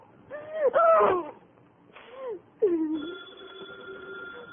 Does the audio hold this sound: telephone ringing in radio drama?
yes